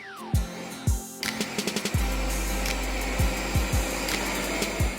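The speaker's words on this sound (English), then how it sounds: "We have our blender filled up. Now we're getting ready to pulsate." A kitchen blender pulses a beef, spinach and cheese ravioli filling. The motor starts up into a steady, loud whir, broken by repeated thumps and knocks as the blades chop the mixture.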